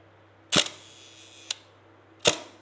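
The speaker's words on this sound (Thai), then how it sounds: "เอาใหม่นะขอลองอีกทีหนึ่งช้าๆนี่คือเสียงชัตเตอร์" A Hasselblad camera's shutter is fired slowly: a sharp close clack with a quick rattle, a small click about a second later, then a second loud clack, with no voices over a low steady hum.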